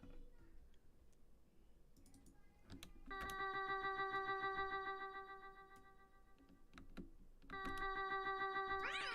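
Bright electronic tones ring out with echoing repeats, notes trailing and smearing into a wash of reverb and delay against a quiet background.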